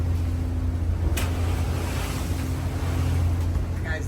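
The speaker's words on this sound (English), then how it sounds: "This boat does really well in a head seat." An old trawler pushes through head-sea waves on a rough Gulf crossing, with a constant low engine drone, rushing water and wind buffeting the microphone throughout.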